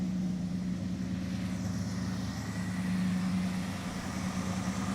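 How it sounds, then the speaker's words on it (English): A Chrysler 5.2 liter V8 in a crew cab Charger runs at a steady idle, a continuous low rumbling hum with an even tone, close and fairly loud throughout, without any talking. "Yeah, Stuart, you guys heard it? Yep. It sounds nice. Is it a V8?"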